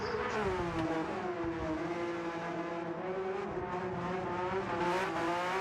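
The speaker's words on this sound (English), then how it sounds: "lighting up his rear tyres there as he goes round" Race car in Gran Turismo 7 spinning its rear tyres round the Nürburgring in wet conditions, a steady, loud engine whine with climbing and falling pitch sustained throughout, alone without talk.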